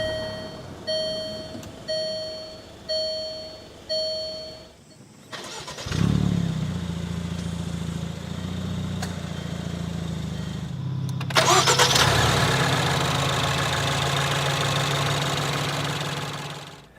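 Land Rover Range Rover Evoque 5-door started by push button: several regular warning chimes, a short cranking whir, then the engine catches and settles into a steady idle, with a brief rise in revs later.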